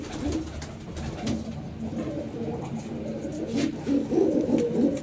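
Breeding pigeons in a loft give repeated low, throaty coos, close and fairly loud, swelling into a denser burst of cooing toward the end.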